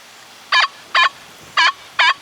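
A Legend metal detector with an LG24 coil sounds its iron tone: four short, buzzy, honk-like beeps, close and clear, in an uneven pattern of two, a pause, then two more.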